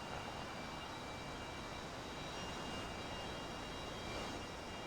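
A UH-60L helicopter in a flight simulator game makes a steady, even whine and rush of engine and rotor noise for the whole clip, held at constant power and fairly quiet, with no voices.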